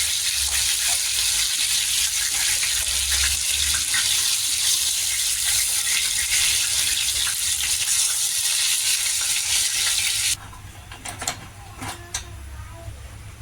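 Bhetki fish pieces fry in a kadai until reddened on both sides, giving a loud, dense, steady sizzle that runs continuously for about ten seconds before cutting out to quieter clinks and scrapes as the fish is lifted out.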